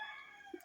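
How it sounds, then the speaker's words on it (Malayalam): A rooster crowing in the background, a faint, distant drawn-out crow heard briefly and alone over a quiet room. "ബാക്ക്ഗ്രൗണ്ടിൽ കോഴിയൊക്കെ കൂവുന്നുണ്ട്"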